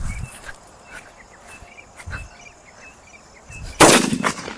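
Diwali daytime firecracker set off outdoors: a few faint low thuds over chirping insects, then one loud, sharp, crackling burst near the end.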